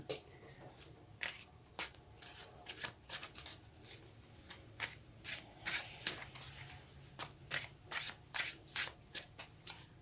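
A deck of tarot cards is shuffled by hand, producing a string of crisp riffling bursts and soft flutters that come close and fairly quiet, in an irregular rhythm.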